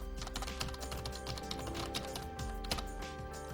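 Fingers enter a password on a computer keyboard, producing a steady stream of close, clattering keystrokes over a few seconds, with no one talking.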